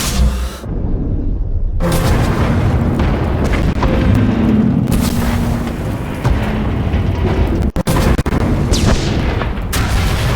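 A weapon fires in a sci-fi video game, followed by heavy rolling booms and explosions that stay loud and dense for several seconds, with a brief silent pause near the start.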